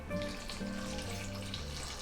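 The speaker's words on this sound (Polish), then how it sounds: "Wody wlewamy tyle, aby zakryte były warzywa i nasza wędzonka." Water poured steadily into a pot of vegetables and smoked meat for żurek soup, a soft continuous splashing and trickle heard close up over a faint background hum, with no talk.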